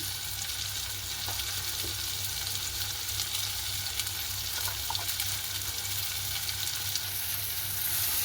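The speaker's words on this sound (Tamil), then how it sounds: "பட்டத்தூள் எல்லாம் சேர்த்த பிறகு வடிவாக பிரட்டி விடுவோம்" Egg devil stir-fries with spice powder in a pan, a fairly quiet, steady sizzle with occasional faint clicks from stirring, close and continuous throughout.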